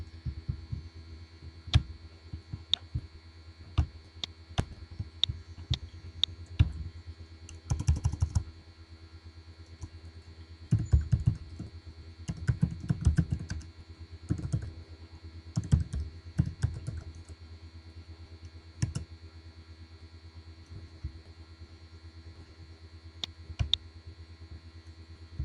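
Steady typing on a computer keyboard, close and fairly quiet, with irregular clusters of key clicks and brief pauses over a faint electrical hum.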